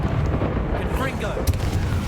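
A Confringo fire blast spell in the Hogwarts Legacy video game: a continuous, loud, rumbling burst with a sharp crack near the middle, set against busy battle noise.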